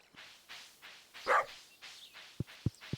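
A dog barking in the Stardew Valley video game, several short soft yips spread across a few seconds, followed by three sharper, closer barks in quick succession near the end.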